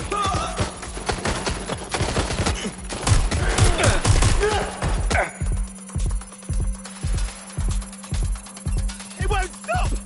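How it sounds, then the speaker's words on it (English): Rapid suppressing gunfire in the video game Watch Dogs Legion, dense bursts and volleys clustering early, then giving way to a steady run of evenly spaced heavy thumps over a low background hum. "Providing suppressing fire!"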